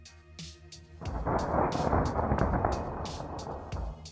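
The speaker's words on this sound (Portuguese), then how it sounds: "Veja como uma descarga elétrica ataca um foguete Soyuz." A crack and heavy rumble of thunder follow a lightning strike on a Soyuz rocket, booming loud and rolling on for several seconds after a sharp onset.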